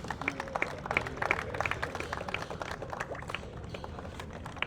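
Applause from an audience for the chief referee at an All India women's national tennis tournament prize distribution, dense irregular clapping of many hands, fairly close and steady, with faint crowd murmur underneath.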